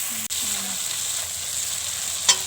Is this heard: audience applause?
no